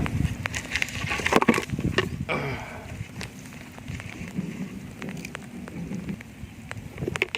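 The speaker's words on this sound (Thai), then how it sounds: "นี่ก็ฝนตกพายุเขาครับ" Steady, dense rain falls during a storm over rural northeastern Thai fishing grounds in the rainy season, a constant broadband hiss with a few sharper spatters, loud and close for the whole stretch.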